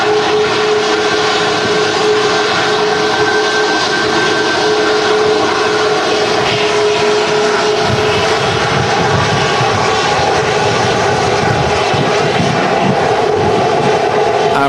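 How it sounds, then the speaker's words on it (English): Ryanair Boeing 737 Max 8-200, Irish registered and one year old, landing in strong crosswinds at Manchester Airport during a storm; a loud, sustained jet engine roar with steady whining tones, close and unbroken. "This particular Ryanair is Irish registered. It's a 1-year-old 737 Max 8-200."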